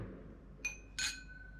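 Two glasses clink together in a New Year toast, a short ring followed by a second brighter, sustained chime over quiet room tone.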